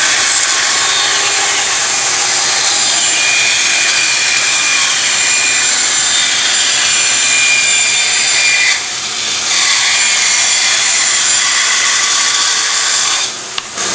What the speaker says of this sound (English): And I'll cut on these lines on the bandsaw.